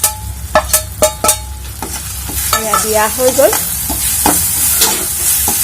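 A spatula scrapes and stirs tomatoes and spices frying in a pan for jackfruit seed curry. A few sharp strokes come first, then a steady, close sizzle takes over, with a brief voice at one point.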